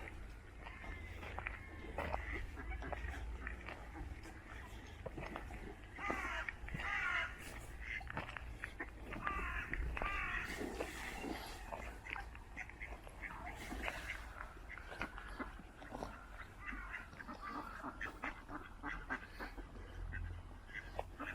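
Crows caw and ducks quack in a busy cluster of birds being fed along a valley walk in Torbay, calls overlapping near and far with faint voices in the background.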